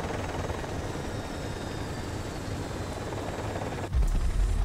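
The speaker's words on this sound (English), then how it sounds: "So guys, that's our chopper." Helicopter in the video game Project IGI coming in to land at a military airbase: a steady whirring rotor drone that swells suddenly louder and deeper near the end.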